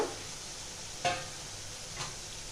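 Mutton with potato and papaya being sautéed in a pan, a soft continuous sizzle with a couple of brief spoon scrapes, close and quiet.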